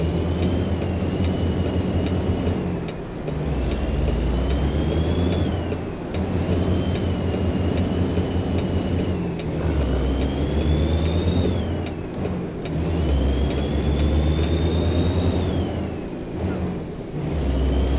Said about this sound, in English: this is a Kenworth W900, 605 horsepower and Eaton Fuller 18-speed with 308 gear